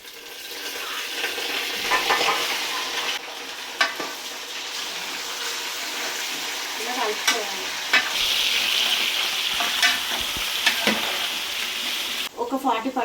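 Chicken sizzles loudly in a pan with browned onions for biryani, a constant frying hiss broken by repeated spoon scrapes and stirs, with occasional talking.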